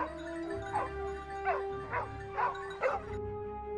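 Hunting dogs tracking a wild boar through snow give a short series of about five yips and barks, fairly faint and distant over low background noise.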